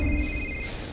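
Telephone ringing in a village house, a steady electronic ring held close and loud for a second with no talk over it.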